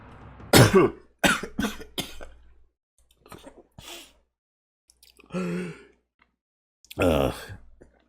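A few sharp coughs up close, followed by scattered breaths, small vocal noises and a longer exhale or sigh, with quiet gaps between them.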